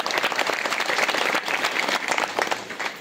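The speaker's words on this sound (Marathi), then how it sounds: "एकदा टाळ्या वाजायला पाहिजे." An audience at a Tukaram Maharaj Gatha recitation gathering claps together in loud, steady applause that tapers off slightly at the end.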